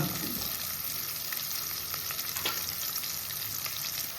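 Mutton masala frying in a pan while being stirred, a steady close sizzle with scraping strokes of the spoon running throughout, no voices.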